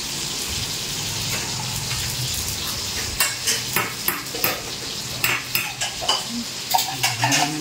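Condensed milk, cream and evaporated milk are mixed together for coffee jelly, with a soft swirling start and then a run of quick, close scraping and clinking strokes of a utensil against the bowl.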